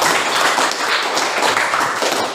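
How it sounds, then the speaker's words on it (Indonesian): Classroom students clapping for group 4 after a lesson presentation, a short burst of close, brisk hand claps filling the moment without speech. "Tepuk tangan dulu untuk kelompok 4"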